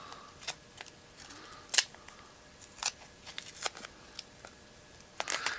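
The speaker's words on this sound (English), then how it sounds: "let's go ahead and take some tape back off" Tape peeled in short tearing strips off bent metal, quiet and close, with scattered crackly rips and one sharper tear amid near silence.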